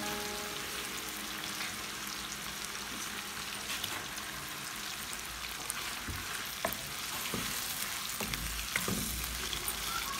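Chicken korma frying with tomato and green chili paste gives a steady, moderate sizzle with occasional stirring clinks and scrapes, continuous throughout.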